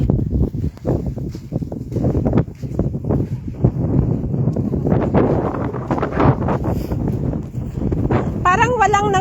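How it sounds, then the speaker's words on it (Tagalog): Strong wind blowing across an open outdoor spot on New Year's Day, a steady broad roar with gusty buffeting against the microphone, while people talk close by throughout. "Malakas ang hangin."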